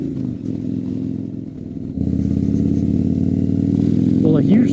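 A Kawasaki Vulcan VN2000 motorcycle rumbles close by while being ridden, its deep engine note holding steady, then rising as the throttle opens, with faint rattles near the end.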